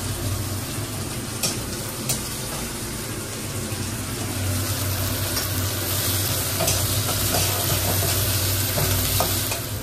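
Chopped tomato frying with fried onions gives a steady, close sizzle, broken by repeated scraping stirs and light knocks, with no speech.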